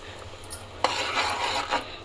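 A spoon scrapes and clinks around a pot of simmering chicken gravy just after kasuri methi goes in, a few sharp metallic knocks over soft bubbling.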